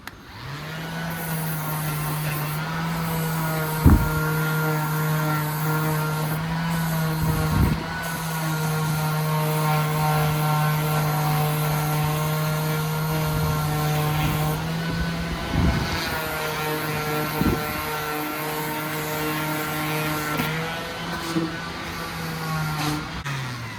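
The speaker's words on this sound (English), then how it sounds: "I'm gonna go ahead and hit it with the orbital sander." An orbital sander scuffs the rim of a trailer wheel, a steady droning motor hum with a buzzing rasp that runs nearly the whole time, with a few sharp knocks and bumps.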